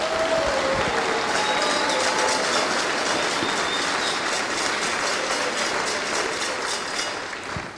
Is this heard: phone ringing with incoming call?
no